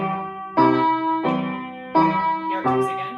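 Piano played with both hands together in a dotted rhythm, four clear chord attacks with sustained ringing notes between them, close and fairly loud.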